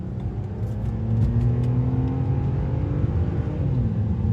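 A 2011 BMW 328i engine drones and climbs steadily in pitch as the car accelerates, heard from inside with constant road rumble and no talking.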